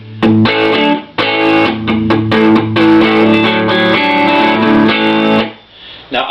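Vintage Les Paul electric guitar through the drive channel of a Laney TF200 amp, loud overdriven chords and riffs with sustained notes, played alone and ringing out before a brief dip near the end.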